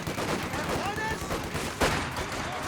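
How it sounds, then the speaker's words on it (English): Machine gun fire from a World War II real-time strategy match in Gates of Hell-style tournament play, a continuous crackle of distant gunfire under game effects with one louder burst near the end. "his machine gun positioning is so good here"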